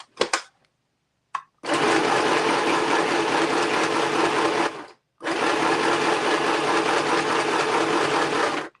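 A sewing machine stitches through fabric junk journal pages in two long steady runs of rapid, even whirring, separated by a short pause, close and loud, after a few brief taps at the start.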